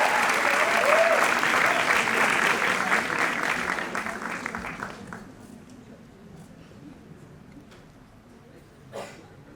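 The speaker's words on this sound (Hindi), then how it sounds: "तालियां बजाइए" Audience applause at a press meet with Sonu Nigam, a dense burst of clapping that swells early, then thins and fades over several seconds to a quiet room with a few stray claps.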